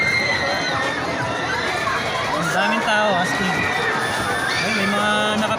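Crowd shouting and cheering at a lakeshore park on Christmas Day, a dense continuous roar of many voices with children's cries rising above it, with nearby talk mixed in.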